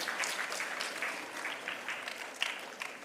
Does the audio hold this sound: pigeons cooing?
no